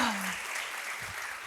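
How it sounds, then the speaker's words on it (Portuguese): Brief scattered applause, fairly faint and distant, a short burst of clapping from a small group. "Se você ama Jesus, aplaude o Senhor"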